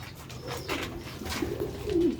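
Old Sialkoti pigeons in pure condition coo softly nearby, giving a few low, throaty rolling calls over a faint background hum.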